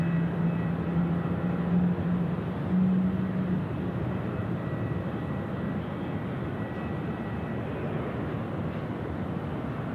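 Etihad 221 Heavy jet engines spooling up at Sydney Airport at night, a low, sustained rumbling roar with a brief tonal whine rising early on, distant but steady and unaccompanied by voices.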